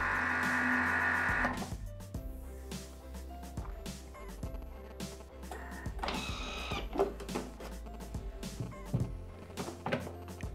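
A Thermomix food processor whips cream, giving a steady mechanical whir with a higher-pitched motor whine early on, then irregular clicking and tapping as the blade churns, fairly quiet and close.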